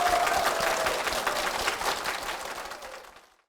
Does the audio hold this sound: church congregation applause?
yes